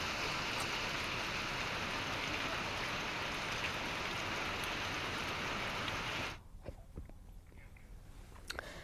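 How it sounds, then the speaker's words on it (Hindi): Rain falling in Uttarakhand, a dense, steady hiss of drops that runs for about six seconds and then cuts off abruptly, leaving only faint background noise. "साथ ही बारिश हो भी रही है।"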